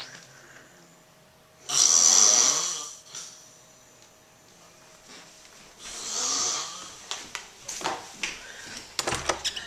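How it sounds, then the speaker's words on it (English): A man snores loudly indoors, with two long rasping inhaled snores a few seconds apart, followed by softer breathing and small knocks and clatter nearby. "I just videotaped Daddy snoring so he knows how loud he is."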